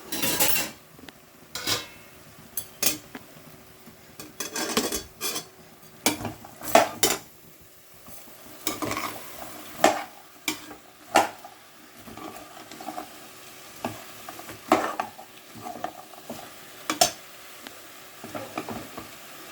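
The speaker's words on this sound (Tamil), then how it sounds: "தேவையான அளவுக்கு உப்பு போட்டு நம்ம கொஞ்சம் வதக்கிக்கலாம்" Vegetables with peas and salt are sautéed in a pan, the spatula clinking and scraping irregularly against the metal over a faint sizzle, with sharp knocks scattered throughout.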